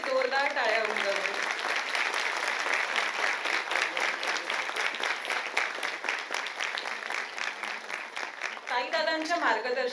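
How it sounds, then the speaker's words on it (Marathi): An audience at a school annual gathering claps loudly and continuously for the children, dense rhythmic applause filling the hall, with a speaking voice heard over it at the start and again near the end. "सगळ्या मुलांसाठी जोरदार टाळ्या उमटवू."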